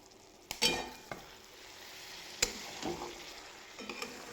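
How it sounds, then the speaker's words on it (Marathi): Brinjal curry cooking in a pan: a low, quiet simmer with occasional stirring scrapes and a few sharp clinks of a spoon against the pan, close by, without voices. "इकडं भाजीला बघूया वांग्याची भाजी शिजत आहे"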